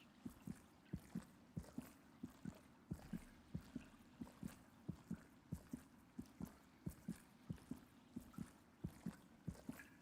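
A heartbeat plays in the Royal Waterways area of the video game Hollow Knight. Soft, low thumps repeat at a steady rhythm, often in double beats, faint over a watery ambient background.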